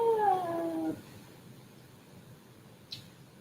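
A cat gives a single loud, drawn-out vocalization with falling pitch, up close indoors, then quiet room tone with one brief faint click afterward.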